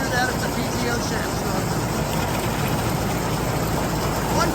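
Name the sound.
John Deere 730 tractor engine running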